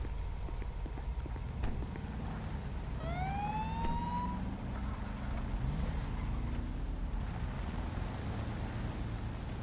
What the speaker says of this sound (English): the second you hear my siren stop, you're free to go